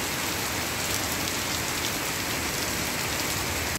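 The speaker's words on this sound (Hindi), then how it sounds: "शनिवार शाम को अचानक तेज हवाओं और गर्जन के साथ बारिश होना शुरू हो गई" Heavy rain pours down steadily in a dense, continuous hiss during a sudden Saturday evening storm with strong winds and thunder in Jamshedpur, loud and unbroken throughout.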